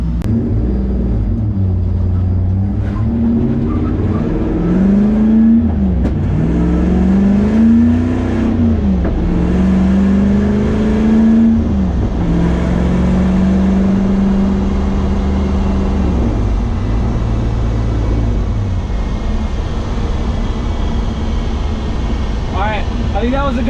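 An LS-swapped BMW E30 on a test drive, with a steady loud engine drone that climbs and falls through repeated revving pulls under continuous road rumble.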